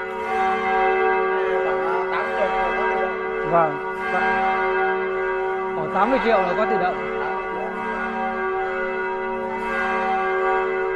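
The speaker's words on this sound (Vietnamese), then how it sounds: "nghe chuông hay á" Bells ring at the Vinh Son parish church in Thai Binh diocese, a steady sustained peal with overlapping tones while people nearby talk over it.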